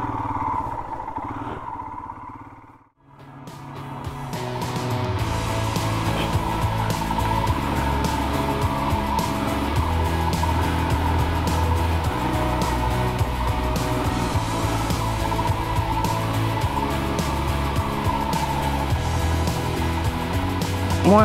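A motorbike rides off-road through heavy slush after rain, its engine droning loud and steady after a brief dip near the start, with tyre noise mixed in and no speech.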